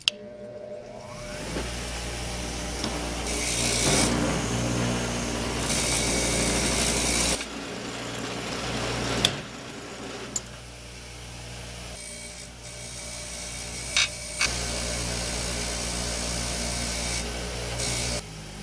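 An angle grinder runs continuously on rusty antique metal clamps, a loud steady whir with rough grinding texture, briefly dropping and restarting a few times along the way.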